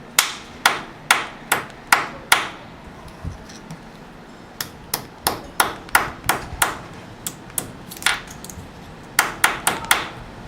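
Sharp metallic hammer strikes flattening a homemade metal arrowhead on a solid base, ringing out in irregular bursts with a short pause midway, close and fairly loud.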